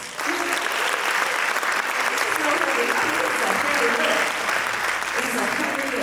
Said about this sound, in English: So I want you to give yourselves an applause.